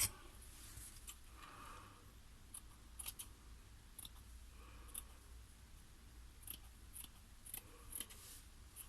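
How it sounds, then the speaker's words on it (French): Scissors snip through paper for a handmade mixed-media card, a run of quiet, close clicks and short cuts spread unevenly across a soft room background with no talking. "je vais couper ce qu'il faut"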